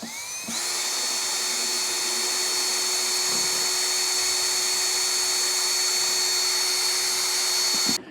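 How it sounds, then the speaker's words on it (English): A power drill fitted with a 5-gallon paint mixer spins up and runs at a steady, loud whine for several seconds, with a faint churning of liquid fertilizer underneath, then winds down abruptly. "now I'm just going to take my drill here. I have a 5-gallon paint mixer on the end of it"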